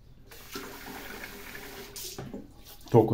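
Tap water runs steadily into a bathroom sink while someone gets ready for a straight-razor shave, a continuous rushing hiss that ends in a louder splash.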